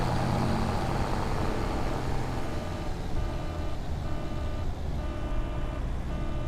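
Tractor engine in Farming Simulator 25 drones loudly and steadily throughout, a dense low rumble with a thin horn tone barely poking through the engine noise.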